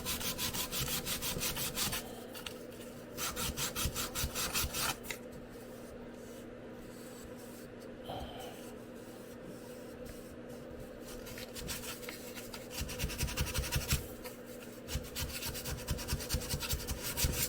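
A plywood coaster jig being sanded smooth by hand, heard as close, rhythmic bursts of scratchy rubbing separated by quieter pauses, with a faint steady hum underneath.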